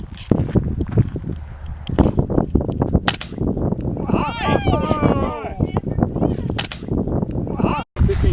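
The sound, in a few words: gunshots from handguns at a shooting range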